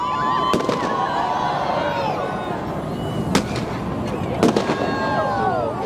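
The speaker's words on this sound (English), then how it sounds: "There's some people setting off fireworks in the middle of the crowd." Fireworks set off in the middle of a New Year crowd in London crackle and pop close by with a few sharp bangs, while the crowd murmurs and voices call out in the background.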